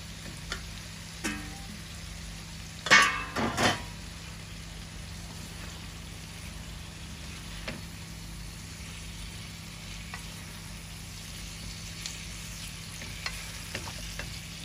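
Broiler chicken leg pieces frying crisp in a pan for a bhuna, a quiet steady sizzle with a brief louder burst of stirring or spattering near the start and faint scattered ticks throughout, with no talking.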